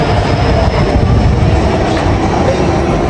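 A Delhi Metro train running, a loud, steady roar of wheels and rails heard from on board, dense and unbroken with no talking.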